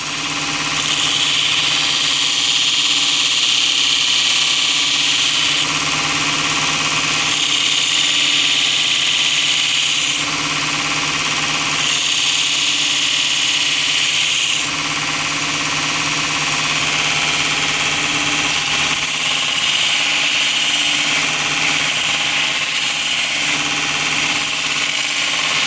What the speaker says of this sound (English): We do need to grind something with this new grinder.